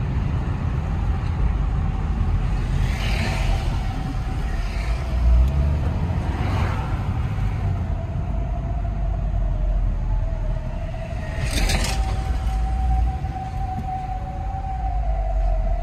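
A car on a test drive in second gear, heard from inside as a steady engine drone with road rumble, a faint rising whine and a few brief knocks, no talking.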